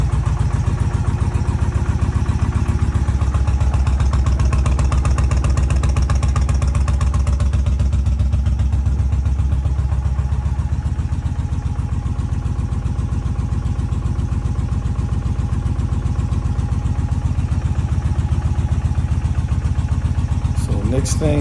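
An Indian motorcycle engine idles steadily nearby, a low continuous rumble with a fine rhythmic pulse holding throughout, with a brief clatter near the end.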